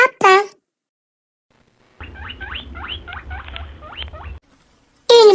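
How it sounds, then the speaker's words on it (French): A rabbit makes a run of quick, squeaky, scratchy chattering sounds lasting a couple of seconds, with a brief voice just before and just after. "Un lapin."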